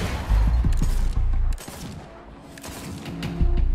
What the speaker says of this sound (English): Oh no, it's just a regular pulse rifle.